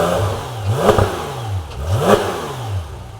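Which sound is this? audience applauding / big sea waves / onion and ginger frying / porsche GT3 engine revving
porsche GT3 engine revving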